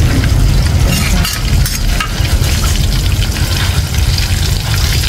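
Fish fries in a pan with a loud, steady, close sizzle and crackle that fills the whole stretch without letting up.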